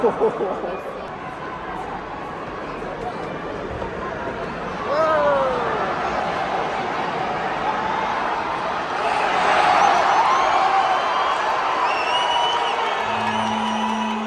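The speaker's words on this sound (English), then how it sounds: "can hear all the cheering already." Crowd in Mexico City cheering and whooping at a distance, a lively hubbub that swells midway, with a few whistles and voices rising above the steady babble.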